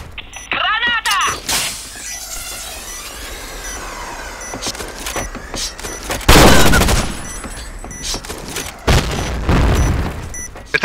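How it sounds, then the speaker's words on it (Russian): Two heavy booming blasts, each from a Point Blank grenade, erupt in the middle and again later, set among scattered gunfire and shattering game effects, with players' voices heard throughout. "Граната! Со стороны контейнера."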